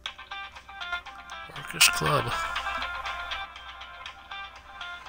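A mobile phone ringtone chirps in a repeating electronic pattern while a person talks over it, with game sounds in the background.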